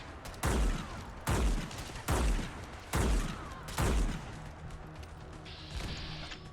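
Five loud, booming blasts from a lever-action 12 gauge shotgun in Fallout 4, fired at a steady pace about a second apart, each with a short ringing decay, followed by quieter ambient hum.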